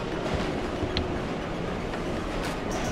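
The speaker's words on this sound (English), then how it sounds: "I will stop the train." A train rumbles in the Gang Beasts video game, a steady loud broadband roar of rolling wheels and wind that holds constant throughout with faint clanks.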